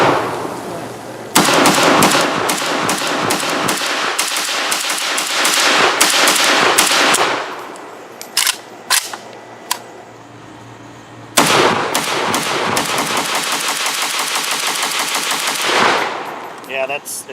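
A WBP Lynx pistol fitted with a brace fires rapid strings of loud, sharp shots, two long bursts separated by a few scattered single shots, with brief muffled voices in the pauses.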